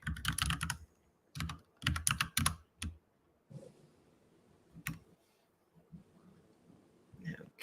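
Quick bursts of clicking on a computer keyboard come in several short clusters separated by pauses, close and crisp, with faint low murmuring between them.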